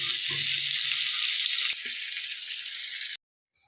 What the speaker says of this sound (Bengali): এরকম হালকা ভাজা হয়ে যাবে, এবার চলে যাবে মিক্সিতে।